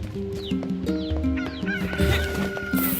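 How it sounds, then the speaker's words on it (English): Chickens cluck in the farm area of NieR Replicant over steady game music, with a few short squawks coming through fairly close. "Okay, so here's the chickens."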